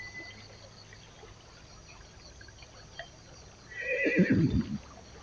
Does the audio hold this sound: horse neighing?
yes